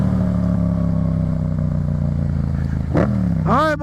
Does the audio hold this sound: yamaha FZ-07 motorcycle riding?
yes